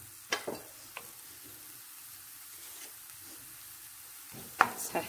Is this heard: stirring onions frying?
yes